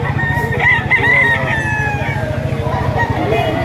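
Several roosters crow in overlapping calls at a busy live chicken market in Lipa, with steady low crowd hum and clucking beneath, close and fairly loud throughout.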